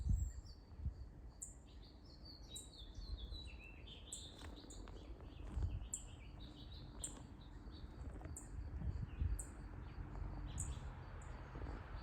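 Birds chirp and call in a backyard, with bright repeated tweets and short trills scattered over a low, faint outdoor rumble.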